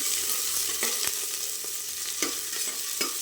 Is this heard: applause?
no